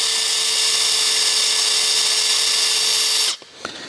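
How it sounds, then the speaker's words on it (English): A power drill whines steadily at high pitch for a few seconds, drilling a small hole in a cast iron exhaust manifold of a David Brown tractor, then stops abruptly, followed by a couple of small clicks. "using a drill and try to drill a little hole"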